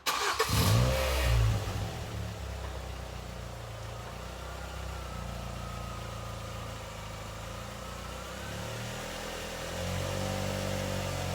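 Ford Fiesta ST starting up close by, a loud burst as the engine catches, then a settled idle and a rising rev near the end.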